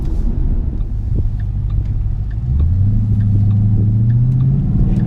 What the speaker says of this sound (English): Just feel that and listen to that car, just that supercharger kick in.